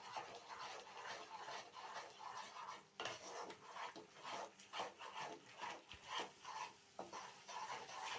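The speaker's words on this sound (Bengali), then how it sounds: "দেখো কষছি, মশলাটা একটু ভালোভাবে কষছি।" Spice paste and mashed peas being stirred and fried in a pan, with steady scraping of a spoon against the pan and a soft sizzle throughout.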